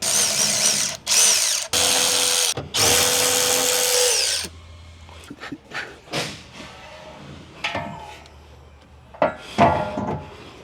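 Power drill driving bolts to mount a dash basket on a Mahindra Roxor, three loud close whirring bursts followed by clanks and handling noises of parts and tools.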